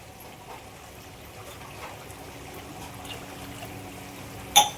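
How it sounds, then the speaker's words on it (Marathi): Water is poured from a vessel into a cooking pot in a home kitchen, a steady, faint trickle running for several seconds and ending with a brief metallic clink of the pot. "अजून पाणी टाकूया."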